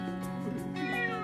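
A cat meows close by, a short run of nasal meows with rising and falling pitch, clear and alone without any talking.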